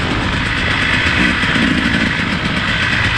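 A two-stroke motorcycle engine with a new top end runs close and loud, a dense buzzing drone holding steady throughout with a rattling, clattery edge.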